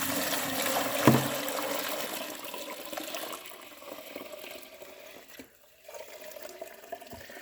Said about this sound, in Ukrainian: Ось так ми зливаємо.